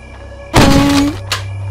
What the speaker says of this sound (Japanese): この音、明らかにヘだよな。